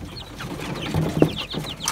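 Farmyard chickens cluck as they are fed greens, a few short, close clucks bunched near the middle amid soft rustling, with no talking.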